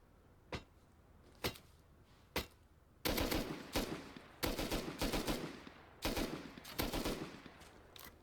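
Gunfire from a player shooting in the survival video game Rust: three isolated sharp shots, then a rapid automatic burst of repeated cracks with short pauses, loud and close, with no talk.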